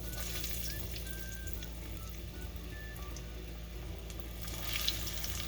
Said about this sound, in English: It does bring the temperature down when you fry it.